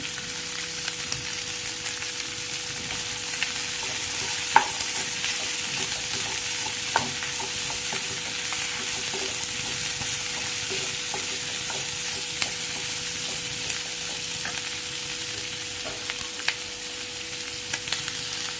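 Onion, ginger and garlic sautéing in a pan for chicken kuzhambu, a continuous close sizzle and hiss with scattered stirring scrapes and taps from start to end.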